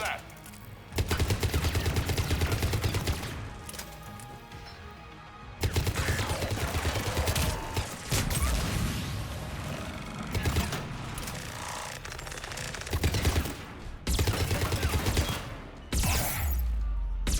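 Sustained gunfire during a space battle in Mass Effect 3, heavy rattling volleys that run in long stretches with brief lulls between them, layered with rumbling effects and a voice speaking over the fighting.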